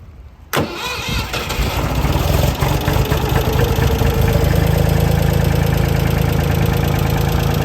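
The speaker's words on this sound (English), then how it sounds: "So we're doing a cold start." A cold engine cranks and catches with a sudden burst, then settles into a loud, steady, rough-edged idle that builds slightly as it runs, heard up close with no talk.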